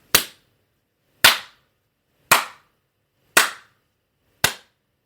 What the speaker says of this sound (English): oh, we're not doing the slow clap?